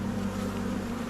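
Honey bees buzz steadily at an open hive during a November inspection, a dense continuous drone close by with no talking.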